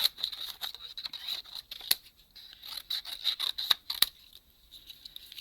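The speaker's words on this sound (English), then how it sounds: "So I'm going to cut these off. Cut them all up." Scissors snip repeatedly through paper pieces for a stamp craft project, a quick irregular run of sharp close cuts with brief pauses between.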